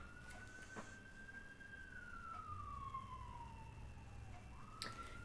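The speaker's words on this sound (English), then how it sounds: "And that siren's going off." A siren wails with a slow rising and falling pitch, steady and moderately loud over low traffic rumble, with no voices.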